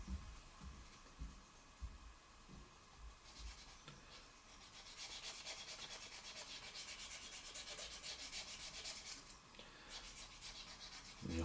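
A cotton swab rubbing along a seam on a Monogram Shelby Cobra 427 SC plastic model kit, giving a faint, continuous close-up scratchy friction that grows brighter and busier midway through, with no talk.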